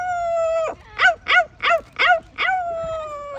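Imitated coyote howl: a long sustained wail, then five rhythmic yipping barks, then another drawn-out howl. Loud and close, with no talk.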